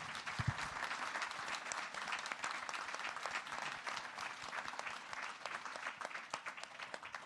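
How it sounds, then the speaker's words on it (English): Audience applause at a technology and innovation conference in Montreal: dense, sustained clapping from a sizeable crowd, heard from some distance and fairly quiet. "So please give us a big round of applause to our fantastic speakers."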